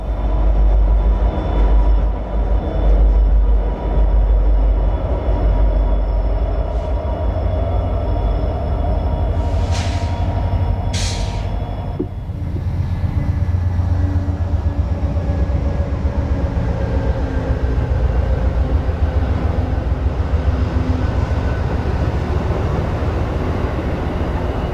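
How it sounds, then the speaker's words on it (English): A freight train hauling trash passes close by on the Pittsburgh Line. It gives a heavy, continuous rumble with wheel clatter, and a couple of brief high squeals cut through midway, with no talking. "There goes the trash train."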